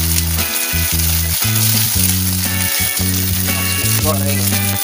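Nasi goreng sizzling in a hot pan, a loud and continuous crackling fry close by, with music playing steadily underneath.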